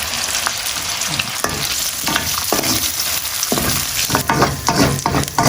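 Garlic and onion sizzle steadily in rendered beef fat, a loud continuous frying hiss broken by repeated stirring scrapes toward the end, with no one talking.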